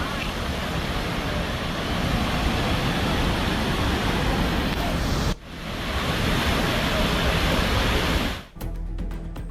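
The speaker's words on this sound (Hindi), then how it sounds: "बगल से बहती हुई नदी, कलकल धारा" A river in Nepal flows past houses in a loud, continuous rushing roar of water, heard close and steady with two abrupt breaks where the sound cuts out.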